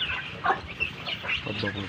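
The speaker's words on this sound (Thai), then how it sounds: "เป็ดไก่นะ" Chickens cluck and chatter close by in a short, busy burst of overlapping calls over a noisy background.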